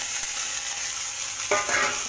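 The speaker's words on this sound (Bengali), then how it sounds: "পেঁয়াজটা হালকা করে ভাজা হয়ে গেছে, এবার আলুটা দিয়ে দিলাম" Potatoes tipped into a pan of lightly fried onions for ghugni: a steady close sizzle, then a sudden louder burst of hissing and stirring as they hit the hot oil.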